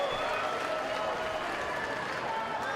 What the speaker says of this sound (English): They're cheering Blake, but also cheering David Savage, the home plate umpire